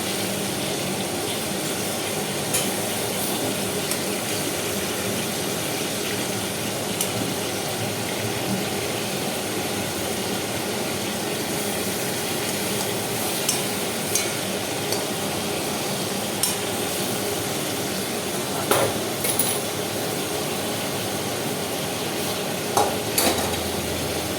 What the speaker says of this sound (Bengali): এটা কিন্তু একদম মিডিয়াম ফ্লেমে ভাজবে, না হলে কিন্তু চিকেন পুড়ে যাবে